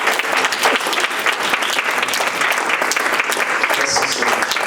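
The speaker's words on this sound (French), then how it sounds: "Applaudissons le Seigneur." Sustained applause from a church congregation, steady and dense clapping throughout with no voices on top.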